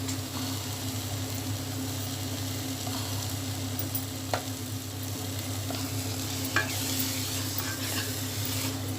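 Masala with tomatoes frying in a pan produces a constant close sizzle over a low steady hum, broken by two brief clinks of a utensil.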